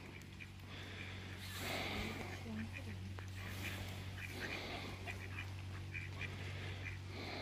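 Ducks quack repeatedly outdoors, a cluster of nasal calls at moderate distance over a low steady hum, with people talking quietly in the background.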